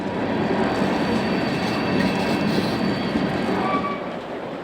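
A CSX GP40-2 diesel locomotive, the former B&O 4147, working the Y125 freight on an urban industrial railroad, rolls steadily past close by, with a loud, constant rumble of rail cars and wheels that eases off slightly toward the end.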